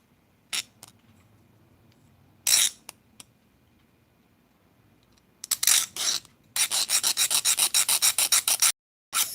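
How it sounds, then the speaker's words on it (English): Hand sanding of metal in a craft room: scattered short rasping strokes at first, then a fast run of rhythmic back-and-forth scrubbing strokes, close and fairly loud, with brief pauses between bursts and no talking. "I'm so tired of sanding stuff today"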